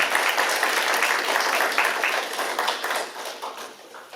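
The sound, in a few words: audience applause for lecturer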